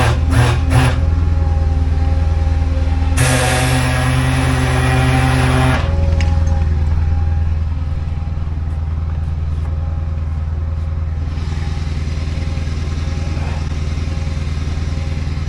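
A Honda car engine revs hard against a stuck, locked-up parking brake, a loud steady mid-pitched drone with clattering and a sharp surge of higher revving for a few seconds before settling back to a rougher idle-like hum.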